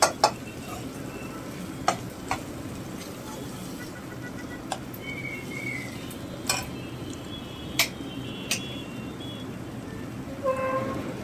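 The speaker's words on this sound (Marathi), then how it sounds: "असं हे सगळा मसाला आपला मस्त फ्राय करा आपला मसाला बघा छान कलर आणि मस्त फ्राय झा होत आला आहे" An onion, tomato, chilli, ginger and garlic masala frying in a pan: a soft steady sizzle with occasional sharp taps of the spoon against the pan and some faint background noises.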